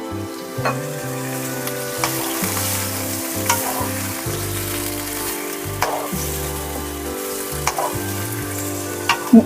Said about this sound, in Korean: 이렇게 중약불에서 계속 졸이고 있는데요